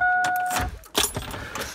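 Keys jangle close by inside a pickup truck with an LS turbo swap, a brief metallic rattle after a short electronic tone, with no talking.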